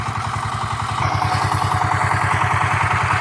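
The small engine of a potato-hilling machine is turned around in a vegetable garden and drives off on its own. It makes a close, loud, rapid putter that clatters steadily and grows slightly louder as it moves away, with no voices.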